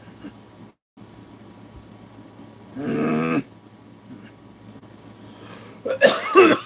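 A person coughs with an irritated chest, one harsh burst partway through and then a louder fit of coughing near the end, close to the microphone in a quiet room.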